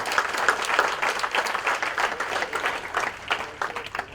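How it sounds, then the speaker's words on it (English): Enthusiastic applause from a crowd, many hands clapping in a lively, uneven patter that rises and dips for several seconds. "Please give a thunderous applause welcoming him."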